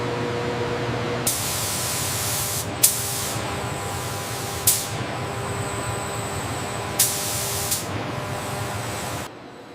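Radar-absorbent coating sprayed onto the sharp edges of an SR-71 aircraft in a factory, steady loud hissing spray bursts starting and stopping several times, with faint clanks between bursts.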